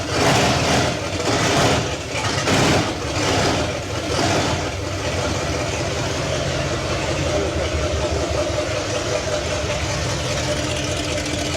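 A big-block V8 engine cranks over and fires up, then keeps running at a loud, steady, rough idle, heard close and continuously, with a stronger revving burst near the start.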